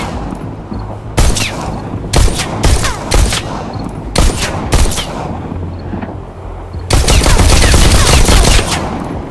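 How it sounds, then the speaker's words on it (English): Gunshots ring out in the VR shooter Bullet Train, played on Oculus Touch, as targets are fired upon: loud close bursts of rapid shots separated by short gaps, ending in a long sustained volley. "Now, try to shoot the targets as they appear."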